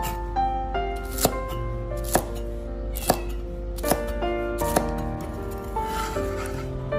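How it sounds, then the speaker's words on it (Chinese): A knife chops celery into long pieces on a cutting board, giving sharp, evenly spaced thuds about once a second over light background hum. "将芹菜切成长段。"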